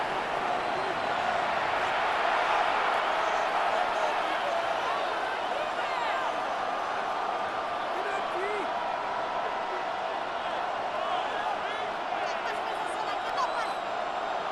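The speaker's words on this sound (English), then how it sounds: "This crowd into it now as we get to 3rd down." Stadium crowd noise from a Madden NFL 26 simulation of Dolphins vs. Falcons, a steady loud roar during a fourth-quarter third down, with a voice talking over it throughout.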